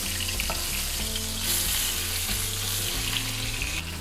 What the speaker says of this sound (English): it's right in there with the olive oil, which helps cook it and sear it